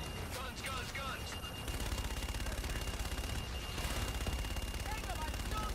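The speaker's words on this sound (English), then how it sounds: "Roger, inbound for gun run. Guns, guns, guns!" Aircraft gun run in Call of Duty: Infinite Warfare, sustained rapid cannon fire swelling into a loud continuous roar under dense combat noise.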